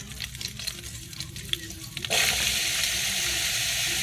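Onions dropped into a hot frying pan burst into a loud, steady sizzle that sets in abruptly after a quieter stretch of stirring and kitchen noise, continuing close and strong to the end.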